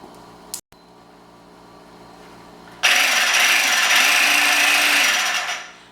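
Herbs and salt ground into a coarse paste for a herb butter rub for a roasted turkey, a steady loud scraping grind that runs for about three seconds after a quiet start with a brief click, then fades out.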